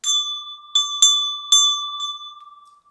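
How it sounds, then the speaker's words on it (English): A hand bell rings out loud and close, struck about five times in irregular succession over three seconds, each clang leaving a bright, sustained metallic tone that slowly fades. "I feel as though I need to ring a bell."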